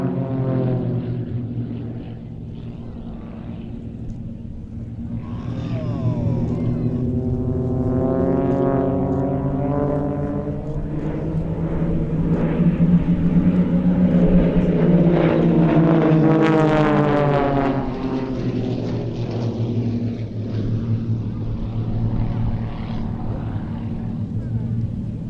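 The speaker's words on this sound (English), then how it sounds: "just look and watch and hear the sounds of this fantastic display team" Aerobatic aircraft of the Global Stars display team fly over an airfield, a continuous propeller drone rising and falling in pitch as the planes swoop and pass, moderately loud and sustained throughout.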